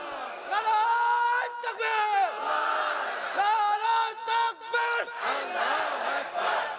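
A rally crowd chants a takbir in unison, loud and close, in repeated rhythmic shouted phrases with brief pauses between call-and-response bursts.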